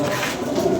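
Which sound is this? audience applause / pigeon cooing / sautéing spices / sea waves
pigeon cooing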